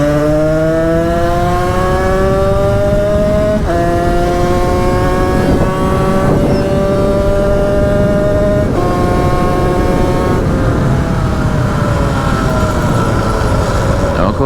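A Derbi/Sherco motorcycle engine revs hard and steadily in winter conditions for wheelies, a loud, close two-stroke-style whine climbing in pitch several times as gears shift, with continuous engine drone throughout.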